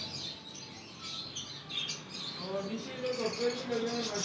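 Cream cockatiels in a cage give faint, scattered chirps and tweets against a busy bird-shop background, with voices murmuring in the room.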